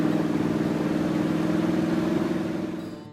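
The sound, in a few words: food truck engine running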